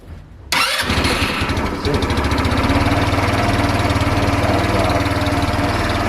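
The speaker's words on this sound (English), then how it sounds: "push this yellow button to start and the brake at the same time" A 150cc moped engine starting by push button: a brief starter whir, then the engine catches and settles into a loud, steady, buzzing idle with a rapid even pulse, close up and with no talk.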